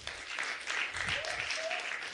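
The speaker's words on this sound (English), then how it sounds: "Give her a round of applause." Audience applause at a youth HIV community mobilization talk, a steady broadband clatter of many hands filling the room, with a voice or brief tonal sound rising partway through.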